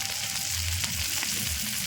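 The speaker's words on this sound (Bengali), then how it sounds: "খালি বুড়বুড়ি কাটাইতেছে।" Small puti fish frying in mustard oil in a village kitchen, a dense continuous sizzle and bubbling hiss that stays steady and close for a couple of seconds with no talk.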